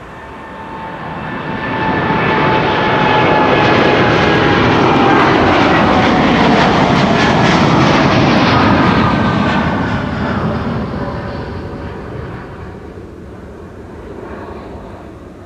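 A Belgian-registered TUI Boeing 787-8 Dreamliner departs Amsterdam Schiphol, its loud jet roar rising over two seconds, holding strong with whining engine tones, then easing away toward the end; no one speaks.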